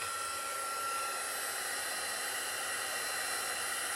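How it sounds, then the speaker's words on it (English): Heat tool blowing on the back of embossed paper, a steady, even whooshing hiss of hot air, close and constant for the whole stretch with no talking. "if I take my heat tool and heat it from the back"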